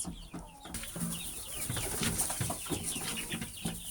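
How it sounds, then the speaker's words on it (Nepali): Laying hens in a poultry coop cluck and call in short, irregular bursts, fairly faint, against a light background hiss. "यसरी अन्डा पार्ने कुखुराहरू चाहिँ मैले राखिरहेको अवस्थामा छु।"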